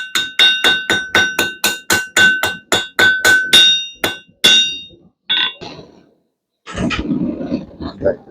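A blacksmith's hammer taps tapered round steel stock on an anvil in a quick steady run of about sixteen bright ringing strikes, then a few scattered blows and a burst of noise, close and loud.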